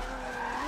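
A drifting car's tires skid in one continuous, steady squeal during a long handbrake drag on a grassroots drift track, loud and unbroken throughout.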